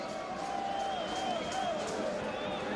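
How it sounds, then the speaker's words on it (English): A crowd at a soccer match between Puerto Rico and Vancouver roars in a steady, dense wash of noise, with whistle-like tones drifting above it, distant and continuous. "It's raised the decibel level of the crowd tremendously."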